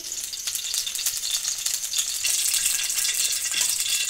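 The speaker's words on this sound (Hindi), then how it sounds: "घी हम मेल्ट होने देंगे" Ghee melts in a karahi with a steady, bright hiss of close sizzling and the odd faint rattle, with no voices.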